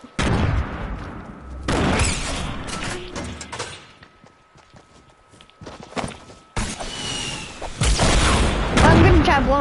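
Video game combat with several loud, close explosions and bursts of gunfire separated by a quieter lull, with a steady tone running under the gap.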